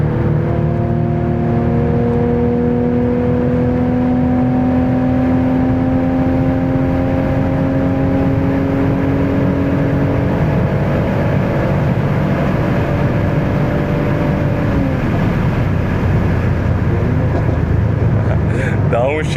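A Mercedes-AMG C43 engine pulls hard on the autobahn, its tone climbing steadily through the gears with a drop near the end, loud and continuous with road and wind roar underneath.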